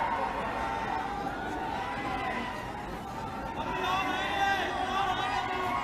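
Large gathered crowd at a political rally in Punjab, a steady murmur of many voices and shuffling filling the space without a break.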